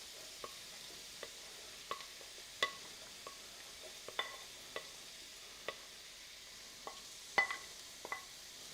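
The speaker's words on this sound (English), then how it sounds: "Take our onions, toss these bad boys in." Onions sizzle softly in a hot pan, a quiet steady hiss broken by a dozen sharp taps and scrapes of a utensil stirring at uneven intervals, with no voices.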